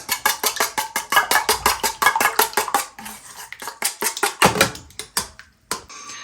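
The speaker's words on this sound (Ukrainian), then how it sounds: "І все це нам треба гарненько перемішати." A utensil clinks rapidly and rhythmically against a bowl while mixing pizza ingredients, a quick steady run of close taps with a brief pause midway.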